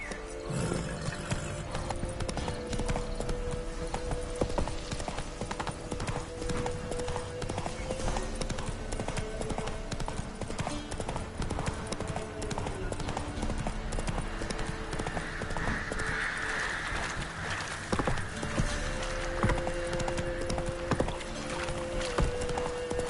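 Roach, the horse in The Witcher 3, trotting with a steady clip-clop of hooves throughout, brief whinny-like calls and game ambience underneath, and a voice speaking now and then.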